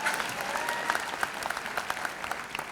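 Audience applauding at a high school graduation ceremony, a dense, steady patter of many hands clapping throughout, fairly close and moderately loud.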